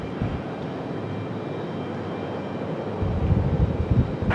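A Lufthansa airliner departing, a steady roar of jet engines that swells louder toward the end as the low rumble builds, with no voices.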